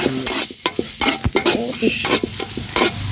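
Ginger added to duck frying in a pan and stirred, loud continuous sizzling with rapid scraping and clanking strokes of a spatula, close up.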